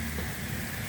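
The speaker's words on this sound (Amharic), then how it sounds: "ደስ ነው የሚለኝ ዝናብ ሲጥል የምር።" Steady rain falls in a dense, even hiss, close and continuous, with no voices over it.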